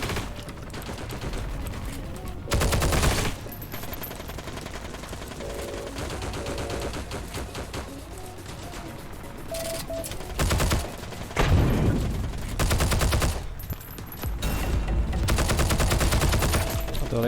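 Heavy automatic gunfire from an M2 machine gun in the video game Heroes & Generals, loud sustained bursts of rapid shots with louder surges, under a dense game mix of effects.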